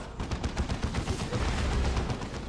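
Rapid bursts of heavy weapon fire and explosions from lascannons in a Dawn of War 2: Retribution 1v1 battle, a dense, continuous barrage of loud cracks and booms with no pauses.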